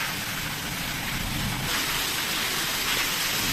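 Heavy rain falls as a steady, broad hiss that stays loud and unbroken from start to finish, with no voices.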